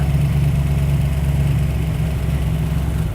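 A cold car engine idles steadily with a low, even rumble, close by and unbroken, with no voices.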